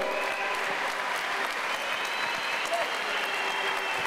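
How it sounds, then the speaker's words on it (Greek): A big round of audience applause for Erkan Varol at a live battle event, loud and steady, continuous clapping mixed with crowd noise throughout. "Ένα μεγάλο χειροκρότημα στον Ερκάν Βαρόν."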